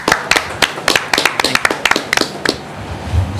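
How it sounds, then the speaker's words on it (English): A crowd at a youth basketball program event claps in a loose, uneven burst, with distinct sharp individual hand claps close by rather than a dense wash, tapering off before the end. "So I think we should give him a big round of applause"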